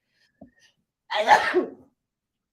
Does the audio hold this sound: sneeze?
yes